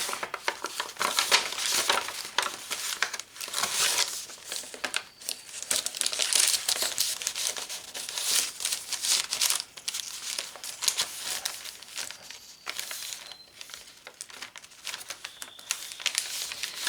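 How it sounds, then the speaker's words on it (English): A paper bag being used for a custom journal is handled and crinkled, giving sustained, irregular crackling and rustling bursts close up that continue for the full stretch with short pauses. "It's another paper bag."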